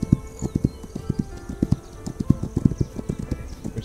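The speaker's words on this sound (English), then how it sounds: "I should probably not be talking while we're charging out the horse" Galloping horse hooves in the video game This Land is My Land, a fast, rhythmic drumming of repeated low hoofbeats through the whole stretch, loud and close, with faint game ambience behind.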